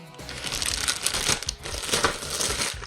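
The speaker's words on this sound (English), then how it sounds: "Plastic noises all over the place." Plastic parts and bags of a Megazord model kit crinkle and rustle continuously while being unboxed, close and fairly loud, with dense crackling and a few louder crunches throughout.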